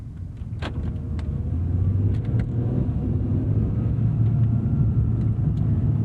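A 2017 Acura NSX (NC1) driving in sport mode, with a steady low engine and road rumble from inside the cabin and a few faint clicks, no talking.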